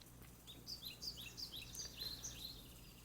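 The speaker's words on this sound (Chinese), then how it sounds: "那鸟叫声可以小声一点点" Recorded birdsong nature sounds from an Anker Soundcore Wakey speaker: a quiet run of short, high chirps repeating in an uneven rhythm over a soft steady hiss, with no voices.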